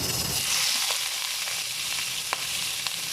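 Wet, freshly washed onions sizzle loudly in hot oil for a dhaba-style chana dal, a steady bright crackle with a few sharp pops and no talking.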